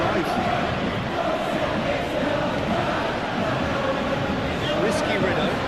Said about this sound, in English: Well, the crowd aren't happy.